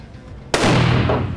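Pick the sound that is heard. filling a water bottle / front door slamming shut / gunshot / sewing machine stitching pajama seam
gunshot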